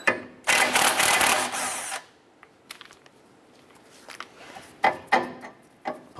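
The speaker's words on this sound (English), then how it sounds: "We're going to remove that nut on our" Impact or power tool spinning a tie rod nut off with a 19mm socket on a 2008-2012 Honda Accord, one loud buzzing burst followed by quieter clinks and clicks of handling.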